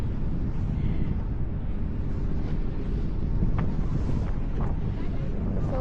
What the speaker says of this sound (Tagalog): Uy, ayoko nang mahangin.